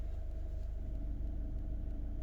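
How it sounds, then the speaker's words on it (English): A 2022 VW GTI Mk8 in sport mode idles with a low, steady engine rumble, continuous and moderately quiet from close by, with no one speaking. "Sounds a little bit deeper when you put it in sport mode."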